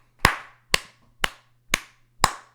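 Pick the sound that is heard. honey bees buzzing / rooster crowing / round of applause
round of applause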